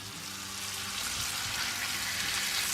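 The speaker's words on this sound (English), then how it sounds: "We're going to sear them all up on all sides." Steaks sear in a hot pan, making a steady, hissing sizzle that is dense and even throughout with no talk over it.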